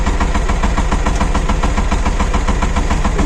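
A mini tractor engine runs steadily at close range, a loud, continuous rattling chug with an even, rapid knocking rhythm.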